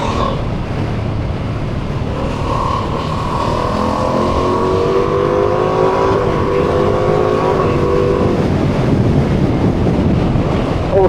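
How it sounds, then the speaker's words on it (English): Ducati V2 engine on a Multistrada V2S motorcycle, a steady rising induction growl with harmonic sweeps over wind rush while riding, loud and continuous with no talk. "What I love about Ducati V2 engines is that induction growl that you get."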